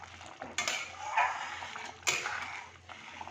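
A spoon scrapes and knocks against a pan while potato curry with fenugreek and garam masala is stirred, with a few sharp clinks among soft scraping strokes over a faint low hum.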